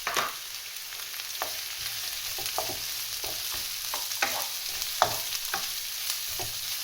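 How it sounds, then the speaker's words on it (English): Tough chard sautés in a pan, a soft continuous sizzle punctuated by repeated spatula scrapes and taps at an uneven rhythm, close and moderately quiet, with no voices. "the next thing that should be cooked really is the chard, because that's quite tough and it's going to take a little bit of sauteing"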